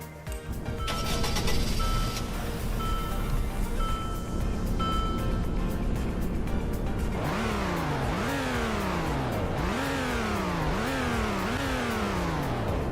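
A car engine in the Roblox game Greenville idles with a steady hum, then revs up repeatedly in rising, falling sweeps, loud and close.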